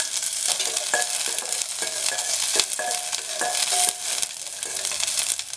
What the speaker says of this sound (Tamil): எண்ணெய் ஊற்றிட்டு நம்ம வச்சுருக்கிற சின்ன வெங்காயம் சேர்த்துக்கலாம்.